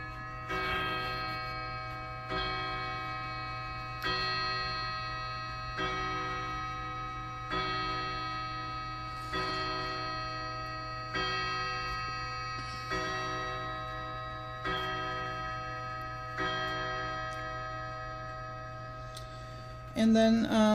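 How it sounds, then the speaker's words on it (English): Clock sounding in a steady, evenly spaced series of about nine ringing strikes, each decaying slowly over a continuous low hum, with a brief clatter at the end. "you're going to hear the clock go off."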